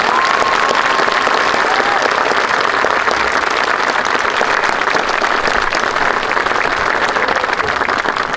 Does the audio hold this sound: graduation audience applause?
yes